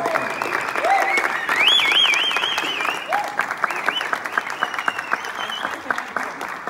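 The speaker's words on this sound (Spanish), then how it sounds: "Fuerte el aplauso para el señor Rafael Inclán." Theatre audience applauding an actor at a cast presentation for a stage play, a sustained crowd clapping, with whistles rising and falling over it, then scattered claps tapering off.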